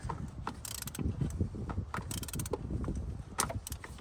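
Wrench tightening the oil filter on a Chevy HHR, giving close mechanical clicks and rasping ratchet-like scrapes in uneven bursts over a few seconds.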